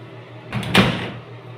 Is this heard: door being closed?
yes